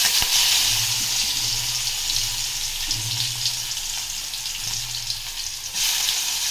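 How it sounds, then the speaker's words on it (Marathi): Mustard seeds crackle and sizzle in hot oil in a pan with a steady, close frying hiss and faint pops, the cooking base for fenugreek leaf bhaji, and no one speaks. "मोहरी तडतड होईपर्यंत आपल्याला तसंच ठेवायचं"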